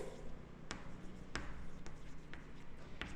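Pen scratching across paper during an accountancy lesson, with repeated short strokes and sharp taps spaced through a steady, close room hum.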